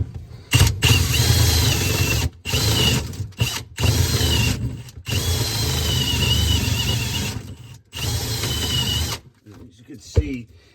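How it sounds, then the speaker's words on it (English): A power drill fitted with a sharp carbide bit cuts into a kitchen drain pipe in loud whining bursts of a few seconds each, with short pauses between them and a brief quieter rattle at the end. "See, it is removing very fine shavings. This carbide bit is really sharp."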